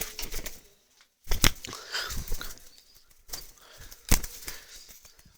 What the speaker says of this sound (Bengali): আজকে আমার শিকারি কবুতর উড়াচ্ছি বাইকের সাথে